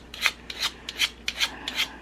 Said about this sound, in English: I need to get that stripe out. My sandpaper's kind of dirty.